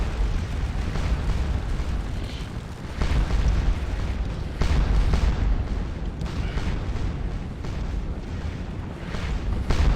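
Cannon artillery fire in the Napoleonic Waterloo battle game Scourge of War, with dense, continuous rolling booms and repeated heavy blasts that overlap throughout into a loud, sustained barrage.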